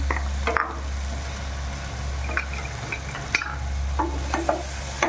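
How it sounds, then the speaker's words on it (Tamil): Ridge gourd sizzles steadily in a pan while a utensil stirs and scrapes, with occasional clinks over a low background hum. "இதையும் அதோட சேர்த்து போட்டு வதக்கணும்."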